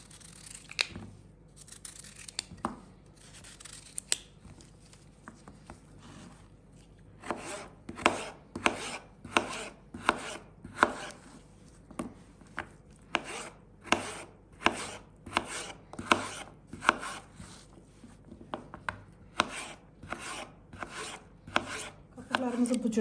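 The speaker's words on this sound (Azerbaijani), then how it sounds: "Qatıqlarımızı bu cür nazik doğradıq." A knife slices food thinly on a cutting board while çökərtmə kebab is being prepared, giving a steady run of crisp, close chopping taps that quicken toward the end.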